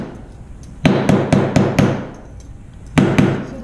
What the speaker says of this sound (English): take the rawhide mallet and just flatten it out again